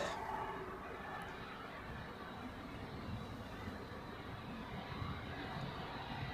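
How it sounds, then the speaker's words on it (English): An Edelweiss Airbus A340 pushes back at Zurich Airport, heard from afar as a faint, steady engine rumble and hiss with little change throughout. "Edelweiss A340 pushing back."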